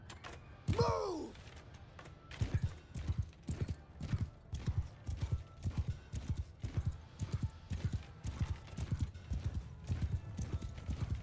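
Horses gallop in the Mount & Blade II: Bannerlord video game, a steady run of loud, close, rhythmic hoofbeats with a brief whinny near the start.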